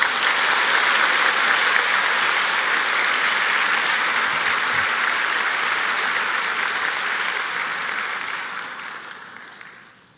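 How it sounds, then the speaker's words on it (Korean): A church congregation claps for three elders, sustained full-room applause that holds steady for about eight seconds before tapering off and fading out at the end. "여러분, 이 3분 장로님 박수 한번 쳐주세요."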